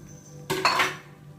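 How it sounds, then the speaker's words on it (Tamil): A single brief metallic scrape and clatter of a spoon in a pan while stirring peanut candy mixture, close and alone against a quiet room hum. "கிண்டிக்குவோம்"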